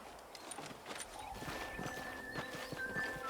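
A horse in the Red Dead Redemption video game, Xbox 360, moves at a quick hoof rhythm with clip-clop hoofbeats and a brief whinny, fairly faint under a game music bed.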